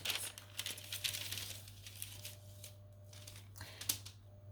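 Parchment paper rustled and crinkled by hand while being laid over a drink coaster on a sublimation heat press, soft close crackles with a few sharper rustles over a steady low machine hum.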